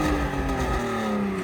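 A BMW 323i E46 with a 2.5 litre engine revs up close by, a loud steady engine drone whose pitch holds and then eases slightly.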